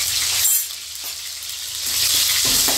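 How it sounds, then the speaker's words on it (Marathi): Green chilies and cumin sputter in hot oil, a bright close sizzle that dips briefly and then swells again, with faint stirring underneath. "चांगली फ्राय करून घ्यायची"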